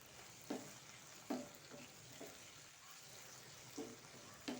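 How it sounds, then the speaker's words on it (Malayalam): Washed dried shrimp sautéing in a pan for a tomato curry: a low, steady sizzle broken by a few soft spoon stirs spaced about a second apart, quiet and close, with no talking. "നന്നായി വഴറ്റി കൊടുക്കുക"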